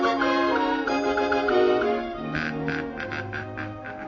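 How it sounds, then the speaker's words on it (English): A cartoon tropical hornbill gives a run of loud, nasal honks, starting with a tonal, buzzy stretch and moving into short repeated honking bursts. The calls are close and come without any talk over them. "He's sure the honkin'est bird I ever did see."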